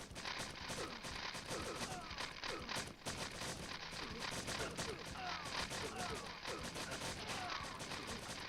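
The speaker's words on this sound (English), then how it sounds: "Why are you shooting at me?" Rapid gunfire in the shooter game Strife, faint and continuous, with repeated shots over a busy battle mix and voices speaking.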